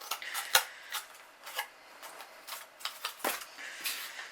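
Scissors cut through recycled cardboard in a quiet room, giving a series of soft, irregular snips and crisp cracks, one sharp louder snap early on, with no voices.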